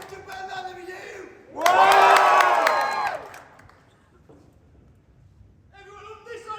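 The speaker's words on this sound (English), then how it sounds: "you're going to be cheering for Team 1, let me hear you!" A crowd cheers and shouts loudly for about two seconds in a gymnasium, with a spoken voice before and after.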